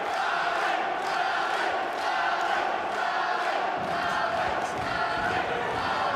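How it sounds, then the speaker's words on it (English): A pub crowd from Glossop in Derbyshire at a boxing bout makes sustained, dense crowd noise with shouting and cheering, loud and unbroken, under an arena atmosphere. "the pub crowd behind where Ali Nuumbembe has a caravan are making huge amounts of noise"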